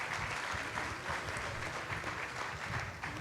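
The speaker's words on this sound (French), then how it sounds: "On l'applaudit bien fort." Audience applause at a geopolitics conference panel as a speaker is introduced, continuous moderately loud clapping from a seated crowd throughout.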